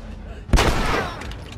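One sharp gunshot blast in The Last of Us, loud and close, with a short rumbling tail that fades over about a second.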